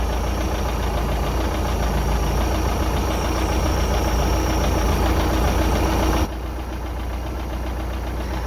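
The engine of a 1982 Sea Ray boat idles steadily and loudly with a rough, knocking rumble, then drops to a somewhat quieter drone near the end. No one speaks.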